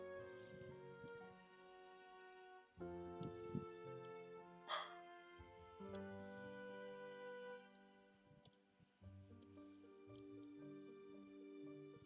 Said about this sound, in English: the doggos doing a woof